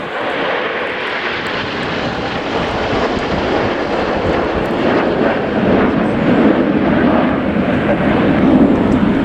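Red Arrows display jets fly in Spitfire formation at the RIAT air show at Fairford, a loud, steady broadband jet roar that holds throughout and swells slightly toward the end.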